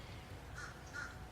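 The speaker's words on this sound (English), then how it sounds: "think it's a magpie" Two harsh, scratchy magpie calls ring out faintly in the distance over steady wind or surf noise at Fort De Soto near high tide.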